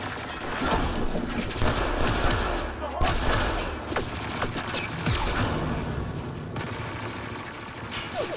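Sustained gunfire in Mass Effect Andromeda, a dense fusillade of rapid shots with thumps and booms over a busy game soundscape, with voices mixed in.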